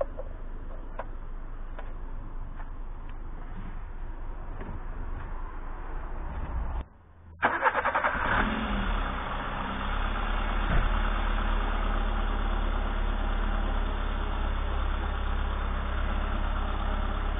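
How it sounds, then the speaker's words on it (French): A Citroën AX engine turns over and catches after a brief pause, then settles into a steady, close idle with a faint ticking rhythm running throughout, during a DIY oil change. "je vais faire tourner le moteur"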